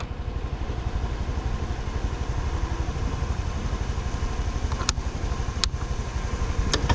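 A Honda Lead JF-45 fuel-injected scooter engine runs steadily, a close, even mid-pitched putter with a few brief clicks near the end and no voices.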